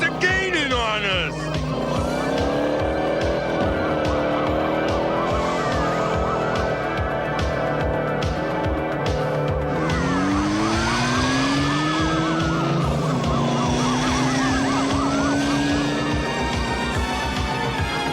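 A cartoon car chase with pursuing police cars: loud revving engines, squealing tires and wailing sirens that sweep up and down, continuous and close throughout.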